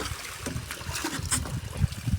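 Water flows into a farm tank with a low, steady trickling and splashing, fairly quiet and continuous, with faint background activity.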